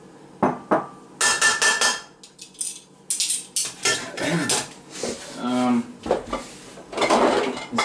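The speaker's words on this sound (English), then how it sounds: "I'm gonna grab the lid to the fry pan." A metal frying-pan lid is picked up and handled in a home kitchen while cooking garlic prawn pasta, giving a string of loud clanks, scrapes and knocks with short pauses, close by and with no talk.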